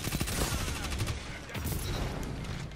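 A Multimach CCX submachine gun fires in Destiny 2, a fast automatic weapon at about 900 rounds per minute, in dense continuous bursts of rapid shots close up with scattered impacts.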